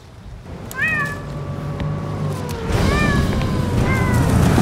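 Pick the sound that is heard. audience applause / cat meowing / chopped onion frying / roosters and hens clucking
cat meowing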